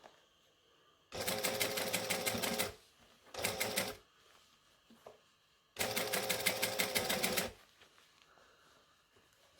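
A sewing machine stitches a seam on a Christmas dress made from Butterick 6094, running in three rapid mechanical bursts of about one to two seconds each, separated by quiet pauses, close and clear.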